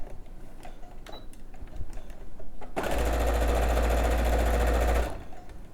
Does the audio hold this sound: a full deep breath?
no